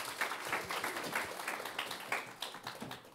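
Audience applause at a corporate job talk session in a hall, a dense patter of clapping that swells and fades in waves for a few seconds, steady and moderately loud with no talk over it.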